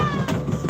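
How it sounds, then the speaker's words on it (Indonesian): Two short kitten meows rise over a live Sasak folk performance in Lombok, with soft background music and ambient noise beneath them. "Anak meong-meong."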